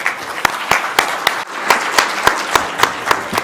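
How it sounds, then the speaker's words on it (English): An audience applauds after a talk on the 14th Dalai Lama's path to selflessness, with steady, rhythmic clapping over a soft wash of hands in an indoor hall. "thank you so much everyone for your big round of applause."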